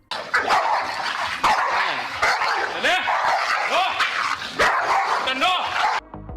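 Pitbull in the game Fallout 4 barking and yipping repeatedly in excited bursts, with whimpering, the loud barks running almost continuously before cutting off near the end.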